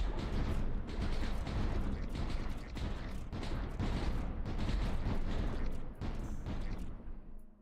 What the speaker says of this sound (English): Got another light mortar, which is pretty decent.